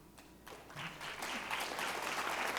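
An audience at a book festival keynote breaks into applause that starts thin and swells into a sustained, dense clapping from a large crowd.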